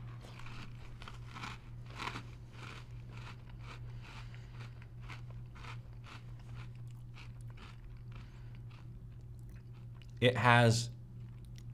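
Crunchy bites and chewing of Space Jam A New Legacy cereal, a dry fruity cereal with marshmallows, mostly faint under a person talking, with one loud close crunch near the end.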